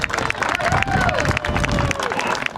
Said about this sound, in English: How about a big round of applause for Luke Nickerson